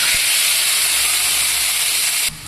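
Loud, steady hissing sizzle of onion frying in hot oil with bay leaf and whole cumin, a dense crackling hiss that drops slightly at the end.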